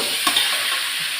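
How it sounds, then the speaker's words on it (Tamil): Onions and chopped raw mango sauté in a hot pan, giving a steady close sizzle with a couple of soft stirring scrapes on top. "வெங்காயம் கொஞ்சம் நல்லா பொன்னிறமாக வதக்கலாம்."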